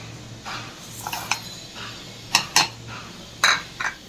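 Green chillies are crushed into thecha, giving a handful of sharp, scattered knocks and taps of a pestle or utensil over a quiet kitchen background, with no talking.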